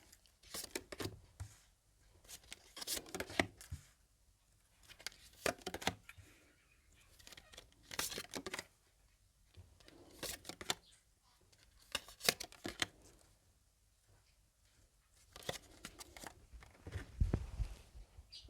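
Tarot cards are shuffled in repeated bursts of riffling and flicking, with short pauses between each round, close and fairly quiet.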